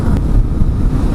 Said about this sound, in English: Alright, still pretty windy here in Oklahoma